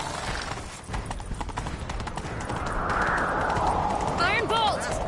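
Fast galloping hoofbeats pound continuously, close and loud, with a horse's whinny near the end, in The Witcher 3.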